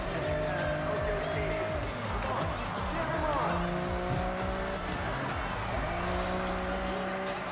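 Racing car engine revs and tire squeal in the Forza Horizon video game, rising and falling engine tones shifting through gears with screeching tires and game ambience, loud and continuous throughout.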